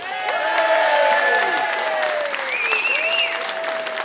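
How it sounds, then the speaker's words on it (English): A festival crowd at the Wigan Diggers Festival breaks into loud, sustained applause welcoming a speaker back, dense clapping with whistles and cheering over it. "give a massive round of applause"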